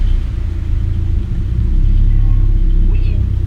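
A Subaru BRZ drift car is being driven, its engine a deep, steady rumble heard up close that swells slightly louder partway through and then holds.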